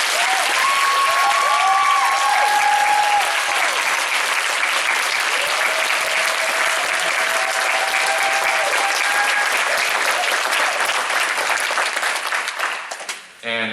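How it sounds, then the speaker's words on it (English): Loud, sustained audience applause fills the room for over ten seconds, close and dense, then tapers off at the end. "can I get a round of applause for all these guys?"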